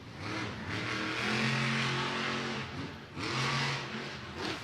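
A Monster Jam monster truck engine roars and revs loudly and steadily, close by, with one brief dip before surging again, in an arena in Orlando during a sky wheelie stunt.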